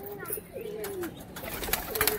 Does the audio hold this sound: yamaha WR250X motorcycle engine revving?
no